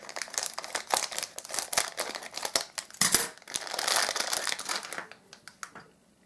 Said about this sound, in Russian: Приехал десяток круглых переключателей, запакованы по 5 штук в пакетике. Сейчас вкрою один, посмотрим.